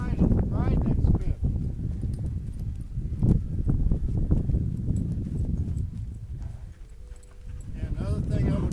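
A horse ridden through a spin sends a quick run of hoofbeats thudding on the ground, with a voice talking over the rhythmic clopping.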